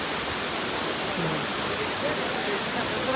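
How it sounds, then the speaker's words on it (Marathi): A waterfall pours down from high on Raigad fort on a misty day, a dense, steady rushing roar of falling water that fills the whole moment at close range without letting up. "तुम्हाला एक धबधबा दाखवतो मी"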